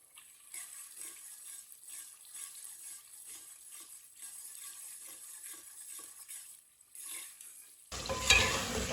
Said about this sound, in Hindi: अब इसे ऐसे ही मिक्स करते हुए थोड़ा सा पका लेंगे।